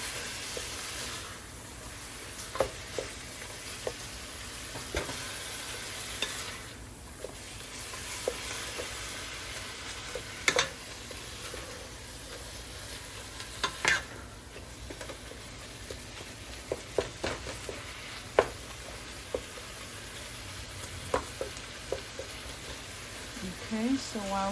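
Ground meat frying in a pan for cheesy taco puffs, a steady close sizzle with repeated sharp clicks and scrapes of stirring, separating the meat, under light talk at times.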